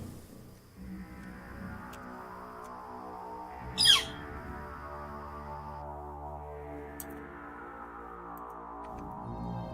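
A single sharp, downward call from a Northern Flicker woodpecker cuts briefly through a soft, humming background, fairly clear and alone with no talking.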